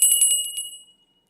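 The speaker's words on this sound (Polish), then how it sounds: "Ten dzwoneczek niech będzie sygnałem do tego, żeby promiennie się uśmiechnąć" A small bell rings in a quick series of about seven bright, clear strikes over half a second, then a single tone rings on and fades into silence.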